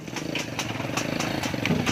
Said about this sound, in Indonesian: Awas motor.